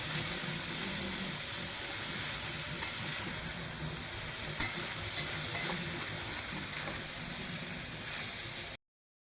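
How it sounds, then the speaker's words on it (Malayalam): Chinese potatoes fry in oil in a pan while being stirred, giving a steady, even sizzle with faint scraping that ends abruptly. "നന്നായിട്ട് എണ്ണ ഒഴിച്ച് കൊടുത്തിട്ട് നിരത്തി ഇളക്കി നിരത്തിയിട്ട് കൊടുത്താൽ മതി"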